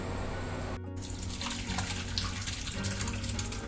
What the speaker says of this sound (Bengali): ছানা রেডি ছানাটা ঢেলে নেব আমি